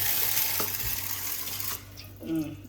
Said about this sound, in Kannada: ಇವಾಗ ಇದಕ್ಕೆ ನೀರು ಹಾಕಿ ತಿರ್ತೀನಿ